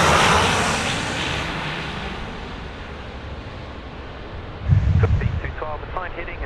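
A Dash 8 turboprop lands on runway 16 right at Sydney Airport, its engine noise a broad steady roar under wind buffeting, with a louder rumble of touchdown or reverse thrust near the end and a voice talking over it.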